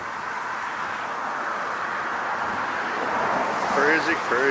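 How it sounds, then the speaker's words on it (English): Strong wind roars outdoors at LAX in a steady broadband rush that swells toward the end, with faint bird chirps or a distant whistle near the close. "It is really windy now."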